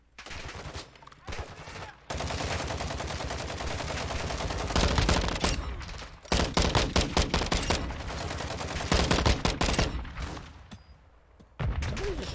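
Gunfire in the video game Call of Duty DMZ: long, dense bursts of automatic fire with brief gaps between volleys, loud and close throughout.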